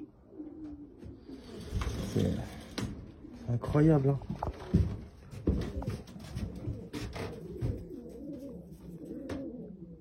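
Racing pigeons in a loft coo in soft, repeated throaty bursts, with a louder coo in the middle, mixed with shuffling and someone speaking French nearby.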